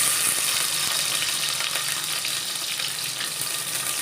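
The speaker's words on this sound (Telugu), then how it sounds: "చూసారు కదండి, ఆయిల్ అనేది చిన్నది మరిగిందన్నమాట" A small amount of oil heats in a pan on the stove while cooking lentil rasam, giving off a steady, even sizzling hiss that stays close and unbroken throughout.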